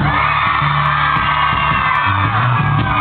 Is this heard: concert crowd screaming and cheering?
yes